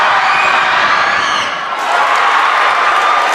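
A basketball crowd in a high school gym roars during an overtime free throw, a loud sustained cheer that dips briefly in the middle and then surges back up.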